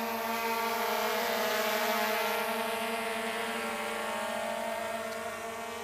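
A quadcopter camera drone hovers and turns in the air, giving a steady, loud, high-pitched motor whine that holds evenly throughout with no talking.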